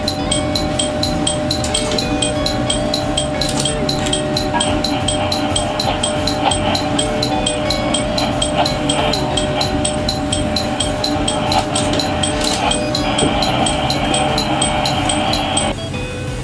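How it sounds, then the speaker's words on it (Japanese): A Limited Express Niseko diesel train rolls slowly along an elevated curve past Otaru, giving a loud, steady rumble with a regular patter of wheel clicks throughout. "小樽駅を過ぎると列車は高架区間、かなりの急カーブをゆっくりと進んでいきます"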